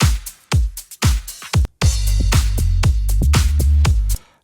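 A club track plays in a Cubase session: a punchy electronic kick-drum beat with short gaps opens, then a deep looping bass line joins the drums in a dense, continuous groove that runs until the end.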